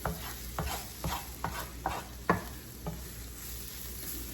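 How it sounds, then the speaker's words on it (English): Onions sautéing in a pan for pork burgers, a steady close sizzle broken by six or so sharp stirring scrapes at roughly half-second intervals, no talk. "That's one thing when you're sauteing onions,"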